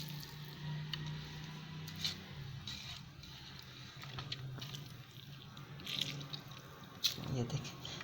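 Grated radish is squeezed by hand, giving faint wet squishing and dripping water trickling into a bowl, quiet and close with small irregular splashes.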